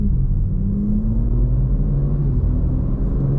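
BMW M4 fitted with downpipes revs from inside the cabin with windows up, a steady deep engine rumble rising and holding, muffled and close, with no talking.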